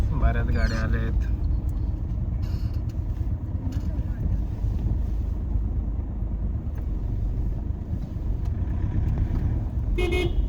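Cars crowd into a busy village, a steady rumble of engines and traffic underneath with scattered horn toots, and people talking nearby throughout.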